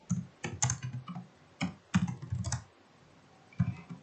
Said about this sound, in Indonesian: kita mengetik PHP artisan